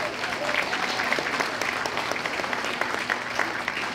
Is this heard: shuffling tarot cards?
no